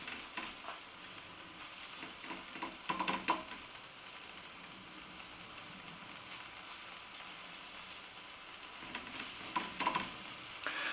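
Chickpea flour pancake batter sizzles steadily in a large hot frying pan, a continuous close crackle with a few brief scraping sounds from a silicone spatula.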